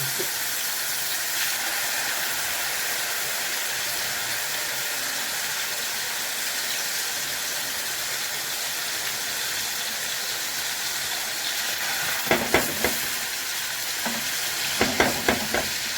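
Marinated chicken panne sears in a hot pan, a steady close frying sizzle and hiss running throughout, with a few brief stirring clatters near the end.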